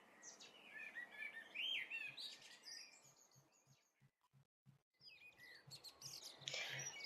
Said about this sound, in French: Occasionnellement, nous recevons le roitelet à triple bandeau,